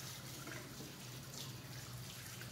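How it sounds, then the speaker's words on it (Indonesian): Water runs steadily from a tap while hands are wetted for washing, a constant splashing hiss at moderate level with no voices over it. "basahi kedua tangan kita pada air mengalir"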